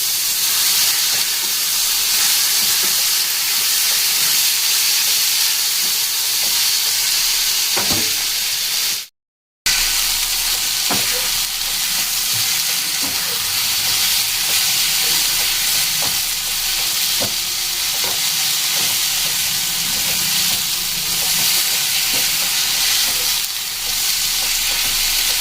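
Ingredients fry on a gas stove with the flame turned up while jelly is being made. A dense, steady sizzle and hiss runs throughout, broken by one brief silent gap, with no speech.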